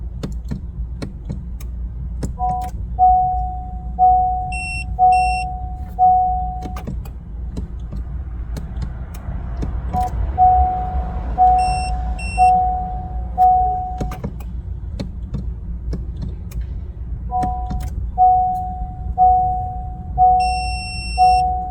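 Repeated electronic beeps in steady short bursts from a programming tool while programming a Honda Odyssey key fob, pausing then resuming, over a low engine-like hum with occasional clicks.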